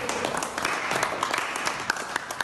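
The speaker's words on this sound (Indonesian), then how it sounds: "kita beri aplaus untuk kelompok 1" A classroom group claps for a fellow student group, a brief burst of dense, crisp hand claps close by that fades within a few seconds, with a faint voice underneath.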